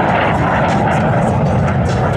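A Lockheed T-33 Shooting Star jet flies airshow maneuvers at the Aerospace Valley Airshow at Edwards AFB, giving a loud, steady, broadband roar that holds throughout.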